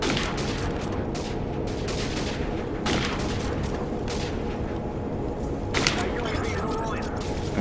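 Rapid, continuous gunfire from Call of Duty 4 multiplayer gameplay, dense crackling shots and bursts layered under a player's steady talk, with a few louder volleys standing out.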